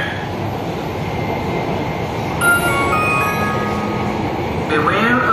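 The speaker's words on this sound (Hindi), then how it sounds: "तो गाइस ये है लखनऊ का मेट्रो स्टेशन" A metro train at a Lucknow station rolls with a continuous loud rumble, joined midway by high metallic squeals from the wheels or brakes, while voices are heard nearby.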